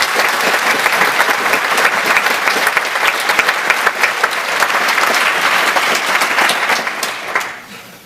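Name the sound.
audience round of applause at lecture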